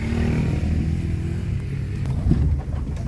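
Off-road motorcycle engine on a rough trail, running with a loud continuous low rumble close by and a brief rise in revs near the end, with no talking.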